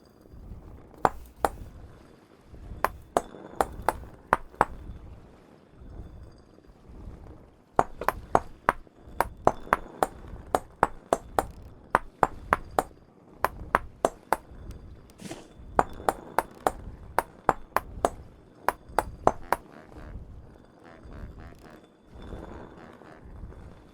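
Hammering on an anvil in Vintage Story: sharp metallic pings and clinks struck in irregular quick bursts, separated by short pauses, fairly faint against a quiet background.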